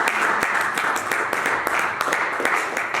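Congregation clapping together at a French-language church service, a dense steady patter of many hands with a few sharper claps standing out, sustained and fairly close throughout.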